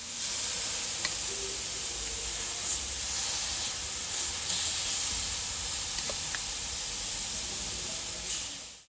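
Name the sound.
chicken sizzling on a grill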